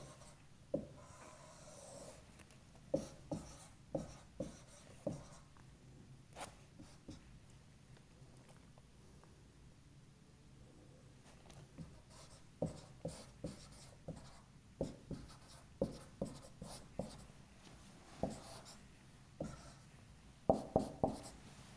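Chalk or marker strokes on a classroom board during a physics lecture on series RLC circuits, with short taps and scratches in irregular bursts, loud and close, separated by quiet gaps and with no talking.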